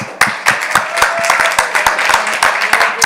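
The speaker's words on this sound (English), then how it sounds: "So let's clap him up one more time" A crowd at a youth huddle claps for a speaker who has just shared, a moderate group giving sharp, distinct claps in a quick uneven rhythm, close and loud, without voices.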